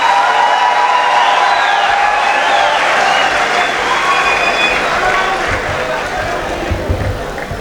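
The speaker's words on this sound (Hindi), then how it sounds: "भरपूर तालियों में इस्तकबाल कीजिएगा जनाब शहजाद मेहदी" Large mushaira audience applauds and cheers to welcome a poet on stage, a loud, sustained wash of clapping and crowd noise at an annual 2024 Urdu poetry gathering, with voices mixed in throughout.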